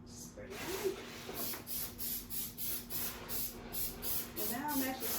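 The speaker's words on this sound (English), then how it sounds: "And now I'm actually spraying it as I'm rolling it down" Adhesive spray sprays from a can in a rapid series of short, evenly spaced hissing bursts while a sublimation print is rolled down, accompanied by rubbing and paper handling sounds, and a voice speaks briefly at the start and end.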